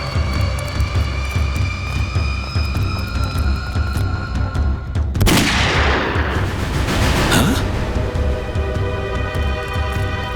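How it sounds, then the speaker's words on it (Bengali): Gunshots in a Bengali crime drama: two sharp, loud bursts of gunfire, the first abrupt and the second a little later, over a steady musical background. "গুলি চলার শব্দ।"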